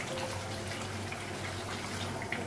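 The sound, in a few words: pouring water into pot of mutton and potato curry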